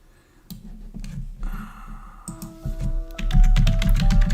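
Close, busy typing on a computer keyboard, with irregular key clatter that grows louder and denser toward the end, mixed with other faint background sounds.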